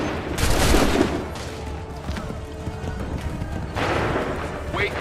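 A musket volley from a line of soldiers in the video game Assassin's Creed 3 bursts out loud near the start, followed by a rumble of battlefield noise and a second burst of fire toward the end.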